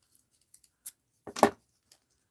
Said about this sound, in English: Let's grab some tape here